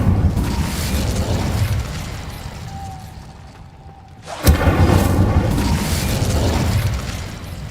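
An Incendio fire spell in the Hogwarts Legacy video game erupts as a single sharp whooshing burst after a quieter lull, followed by a sustained crackling roar of flames, with no voices.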